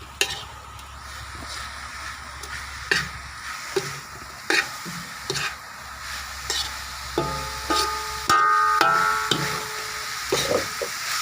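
Eel being stir-fried in a pan for a northern Thai om curry: steady sizzling runs throughout, broken by repeated scraping stirs of a spatula against the pan, close and moderately loud, with no talking.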